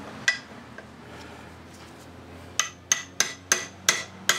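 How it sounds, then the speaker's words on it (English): A tappet hammer strikes a stuck part on a Tohatsu 18 hp two-stroke outboard engine: one early tap, then a run of six sharp metallic knocks at a steady pace, loud and close. "So I'm going to get my tappet hammer here."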